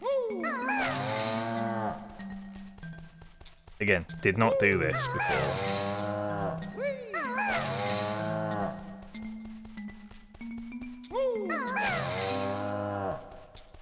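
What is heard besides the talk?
cow mooing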